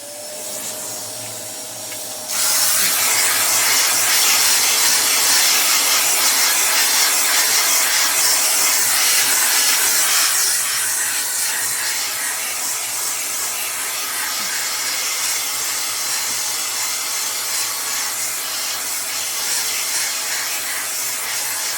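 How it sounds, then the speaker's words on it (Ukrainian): A vacuum cleaner cleaning a Dell laptop starts up and runs steadily with a loud, hissing whine, its airflow shifting slightly in tone partway through, with no talking. "зараз ще раз пилосос"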